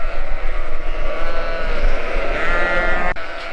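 Sheep and lambs bleat loudly and continuously in a crowded pen, many overlapping calls close by with a constant busy background.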